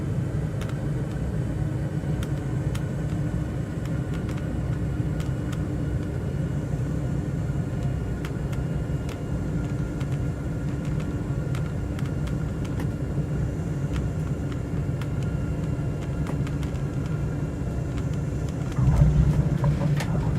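Aircraft engine in a flight simulator game, a steady low droning rumble that stays fairly even with a slight swell near the end, with no talking.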